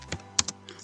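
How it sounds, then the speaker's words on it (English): A short run of computer keyboard typing while working in Microsoft Excel: a handful of separate, crisp keystrokes, close and fairly quiet, with small gaps between them and no voice. "So you just type wedding"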